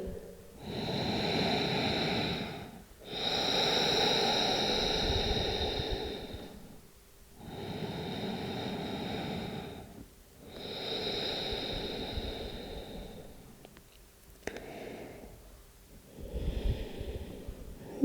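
Slow, deep breaths during a hip-opening yoga stretch: five long inhale-exhale cycles, each a soft airy rush lasting a couple of seconds, close and steady with short pauses between and no talking.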